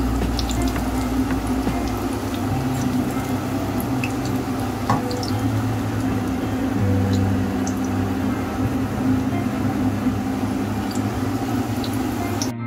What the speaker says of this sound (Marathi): छान असं चुर्र आवाज येतोय